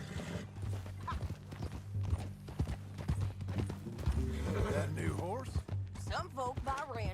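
Horse hooves clip-clop at a steady walking rhythm in the video game Red Dead Redemption 2. The hoofbeats sit under ongoing conversation and background music.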